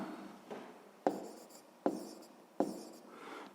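A pen writes an answer on paper: soft scratchy strokes broken by three sharp taps, close and quiet, with no talking.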